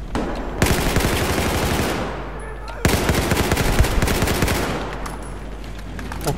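Loud, close machine gun fire in Battlefield 4 on PS4, two long sustained bursts separated by a short pause, with the second burst trailing off into quieter fire.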